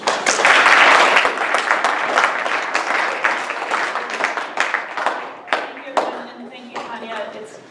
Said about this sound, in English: let's first have a round of applause for Lucy.